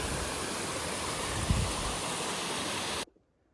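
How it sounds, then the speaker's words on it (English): A large waterfall on a hiking trail produces a steady, dense rushing roar for about three seconds before cutting off abruptly to near silence. "It's one of the bigger waterfalls we've passed on trail, if not the biggest, right on trail."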